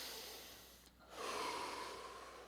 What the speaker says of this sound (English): We're going to breathe in through our nose and out through our mouth.